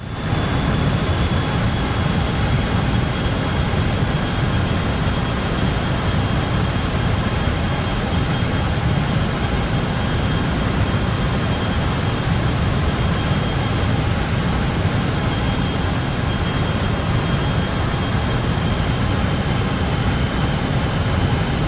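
Steady, loud engine roar of a BAe146-300 four-engine jet in Microsoft Flight Simulator, a continuous broadband rumble with a faint high whine on approach with throttles pulled back, holding unchanged throughout with no talk.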